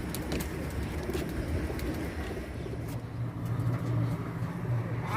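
Pigeons soaked after rain give low, soft cooing calls that repeat steadily in the second half, set against a constant background hiss.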